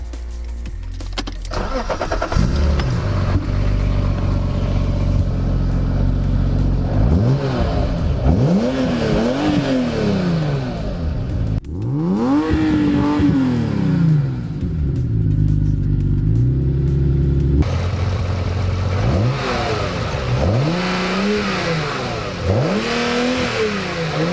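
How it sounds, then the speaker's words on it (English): A BMW E36 M3-R racing car revs hard again and again, each loud, close blip sweeping up and back down in a repeating rhythm over a rough idle, with no talk. "It's a much more aggressive sounding car."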